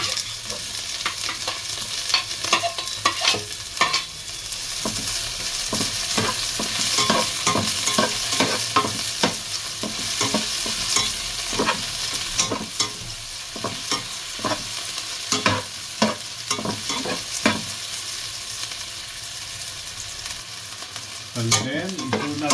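Onions sautéing in a pan after garlic for seafood sotanghon guisado, a steady close sizzle with frequent rhythmic spatula scrapes and taps through most of the stretch, easing near the end.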